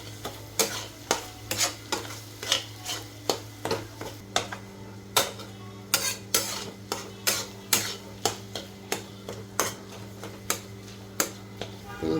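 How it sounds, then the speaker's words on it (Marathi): Spicy boiled egg bhurji gets stirred in a pan with a spatula, which scrapes in regular sharp strokes over a soft sizzle, close and rhythmic throughout. "चांगलं मिक्स करून घ्यायचं"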